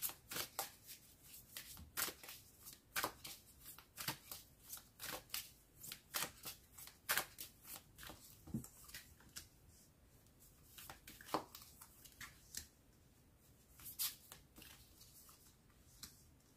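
Tarot cards being shuffled for a reading, a steady run of crisp close riffles and slaps with short pauses, quiet and alone with no voices.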